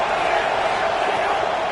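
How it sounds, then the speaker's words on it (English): A stadium crowd cheers at a football game as the home defense tries for a stop in the red zone, a dense, loud, continuous roar with no breaks. "The crowd getting behind this defense as they try to get a stop in the red zone."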